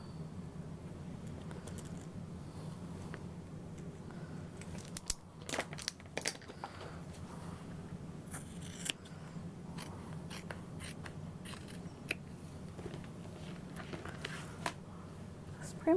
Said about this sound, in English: then we're going to cut it using scissors.